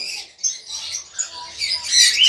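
Several cockatiels squawk and screech nearby at a bird market in Tongi, Bangladesh, in quick, overlapping bursts, harsh and high-pitched, growing denser toward the end.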